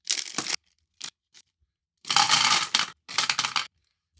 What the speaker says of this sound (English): you're going to dump a bunch of dice in there